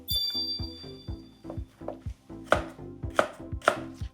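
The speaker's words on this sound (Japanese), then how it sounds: "最初に玉ねぎ切っちゃいましょうかね。" A knife chopping onion finely on a cutting board, about a dozen crisp close thunks in a steady rhythm that grow sharper and louder toward the end, with no talk.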